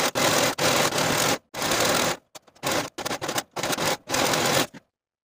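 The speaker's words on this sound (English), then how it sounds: "Serge your pocket seam as well as the outer curved edge and do this for all four pockets" A serger overlocks pocket edges and skirt side seams for a dress, a close, loud mechanical whirring that runs in repeated bursts of about half a second to a second, separated by short pauses.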